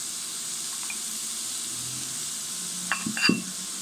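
Diced onion and leek frying in a pan for a Spanish sauce, a steady soft sizzle with a few clinks and scrapes of stirring near the end.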